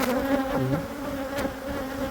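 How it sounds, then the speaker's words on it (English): Steady, droning hum of a queenless honeybee colony during a hive inspection, with a buzzy layered tone holding close and continuous for the whole stretch and no voices. "I don't know the actual reason that they make that humming."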